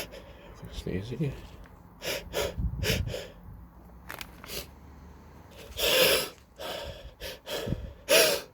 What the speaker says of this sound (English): gonna sneeze again.